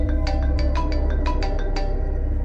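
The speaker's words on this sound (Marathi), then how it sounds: "त्याच्या मोबाईलवर फोन आला" A mobile phone rings in a flat during a Marathi horror story, giving quick bright electronic tone bursts that repeat in a steady pattern over a constant low droning background.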